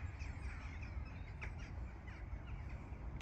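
Rooks and crows call overhead above a Bridgewater canal mooring, with a few faint, scattered caws over a low steady rumble.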